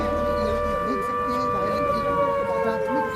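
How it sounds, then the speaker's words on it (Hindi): A civil defense siren wails up and down continuously during a large mock drill at the Narora atomic power station, a steady, moderately distant rising-and-falling tone. "सायरन बजा ऊंचा नीचा बज रहा है"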